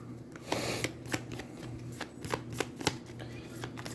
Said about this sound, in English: shuffles his turn order card back into the deck.